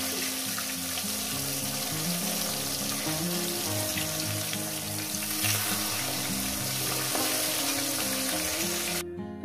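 Fish fry in oil in a pan, giving a loud, continuous crackling sizzle that holds steady throughout with no talking.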